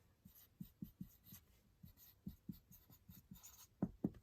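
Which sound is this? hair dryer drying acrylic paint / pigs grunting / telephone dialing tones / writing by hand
writing by hand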